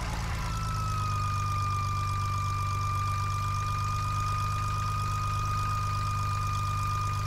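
A Cessna 172 piston engine idles steadily while the aircraft taxis, a constant low drone with a faint whine, continuous and close throughout with no talk.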